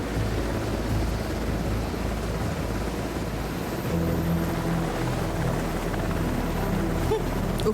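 Helicopter in the video game House of Ashes, a continuous loud rotor and engine drone with a steady low throb that stays at the same level throughout.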